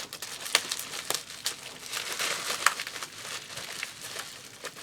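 Sticky packing tape is pulled and peeled while unboxing a Boomerang Sprint V-2 RC jet, giving quiet, close crackling and crinkling with irregular sharp snaps and no voices.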